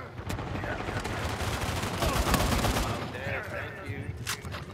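ARX assault rifle from the Uncharted 4 multiplayer video game fires in rapid, dense bursts, with a sustained volley in the middle and sharp isolated shots toward the end. A firefight goes on in the background.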